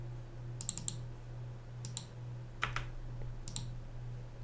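Computer keyboard typed in short bursts of a few quick clicks each, four small clusters over a steady low hum, close and quiet.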